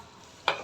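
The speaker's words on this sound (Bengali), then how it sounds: "এখন আমি মাংসটার সাথে মশলাটা নেড়েচেড়ে অ্যাড করে দিচ্ছি" Goat meat and spices stirred in a cooking pot: one sharp spoon scrape over a faint sizzle, close and brief.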